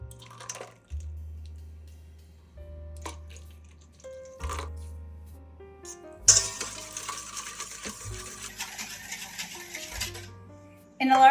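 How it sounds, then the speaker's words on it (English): Spinach wilting in a hot pan for a goat cheese quiche bursts into a steady close sizzle halfway through, with light stirring scrapes, after a quieter stretch of low tones. "Now add your spinach and cook until it's wilted"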